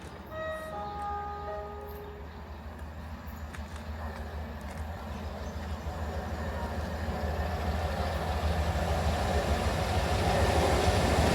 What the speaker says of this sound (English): Today we was in Weymouth to see the iconic steam train coming through